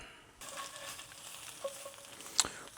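Five eggs fry in a pan with a steady sizzle that starts suddenly and holds at a moderate level, with a few light crackles and one sharp pop near the end and no talking.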